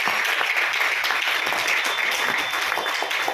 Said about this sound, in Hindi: सबको बोलूंगा जोरदार तालियां इन लोगों को